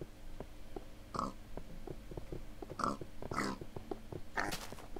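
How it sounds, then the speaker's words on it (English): Pigs in the Minecraft video game grunt and oink in several short, separate bursts over a quiet background, each snort clear and close. "It's not often you see a pig hiding in the grass."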